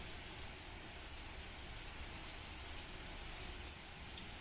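Steady rain falls in the video game Mamiya, a faint, even hiss of dense drops that continues without a break and with no talking.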